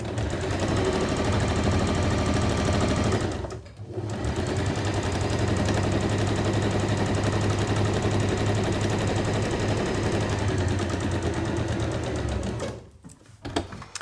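A sewing machine stitches a drawstring bag at high speed, a steady, loud mechanical whir that briefly pauses near the four-second mark, then runs again until it slows and stops just before the end.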